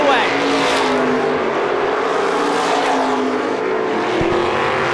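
350 supermodified race cars roaring around an oval track, a loud continuous engine drone that swells and shifts in pitch as they pass, with a commentator's voice over the racket.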